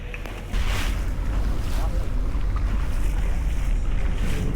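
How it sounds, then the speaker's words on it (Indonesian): Speedboat pounding across choppy sea waves en route to Maratua in the Derawan Islands: a loud, steady roar of engine, rushing water and wind that swells suddenly after a brief quieter opening and then holds unbroken. "Selama perjalanan menuju Maratua, kami ditemani oleh ombak yang cukup membuat kami sedikit terpental di dalam speedboat."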